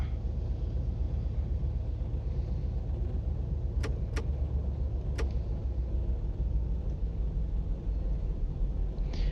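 Freight train in the Run 8 train simulator game: a steady low engine rumble with continuous rolling noise, plus a few brief sharp clicks near the middle.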